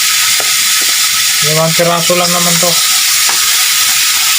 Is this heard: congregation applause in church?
no